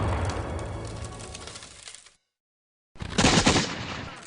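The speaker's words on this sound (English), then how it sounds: "the British rain a constant barrage of cannon and mortar fire down upon the town." A distant barrage of cannon and mortar fire at the siege of Charleston. Booms and cracks roll on continuously, then break off into silence for about a second before a louder burst returns.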